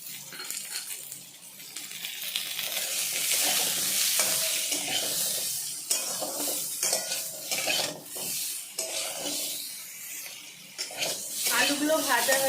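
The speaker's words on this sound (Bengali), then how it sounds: "ওই তেলের মধ্যে এখন ভেজে নেব আলু" Potatoes seasoned with salt and turmeric frying in oil in a pan, a close sizzle with a utensil repeatedly clinking and scraping against the metal.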